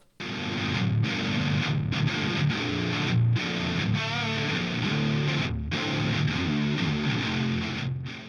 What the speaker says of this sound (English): So there you go, that is what ToneX sounds like with some super low tunings.